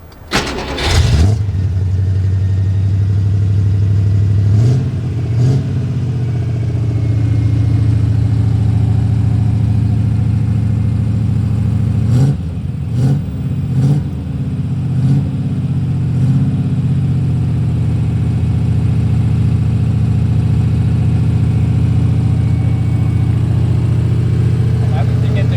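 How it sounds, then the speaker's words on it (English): A loud Ford Escort muscle-car build idles steadily at close range, with a few brief revs breaking the drone and some voices in the background. "So the car's a bit loud"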